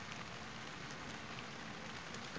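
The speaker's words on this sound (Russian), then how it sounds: "Сейчас у нас тут немножко дождик идет" Light rain falls steadily outdoors near beehives, a soft continuous hiss of fine drops pattering on surfaces, faint and even throughout with no voices.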